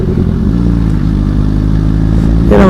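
A loud, close motorcycle engine idling with a deep throbbing rumble that rises slightly toward the end, with no talking.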